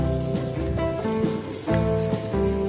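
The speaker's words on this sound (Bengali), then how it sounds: "ওই তেলেই আলুগুলো ডুমো করে কেটে রাখা আছে, আলুটা ভেজে নিচ্ছি" Diced potatoes fry in oil left over from frying nuts, giving a steady crackling sizzle with a rain-like hiss, close and continuous alongside a tonal hum from the kitchen.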